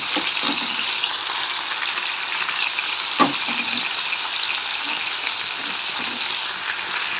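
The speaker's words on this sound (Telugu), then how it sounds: "ఇప్పుడు ఇవన్నీ కొంచెం వేగనివ్వాల, ఇలాగే మగ్గాల." Tomatoes and curry leaves fry in a pan for a capsicum tomato gravy, giving a steady close hiss of sizzling oil with a single sharp clink partway through and no speech.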